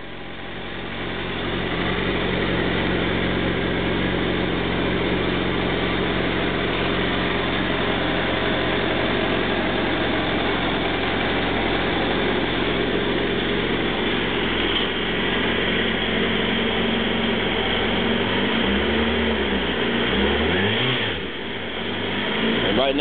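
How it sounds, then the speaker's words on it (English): Stock exhaust on a 2009 Suzuki Hayabusa idles steadily up close, a loud, continuous low rumble that holds even for about twenty seconds before a brief blip of throttle near the end. "I'll try to get as close as possible so you can hear how the stock pipe sound."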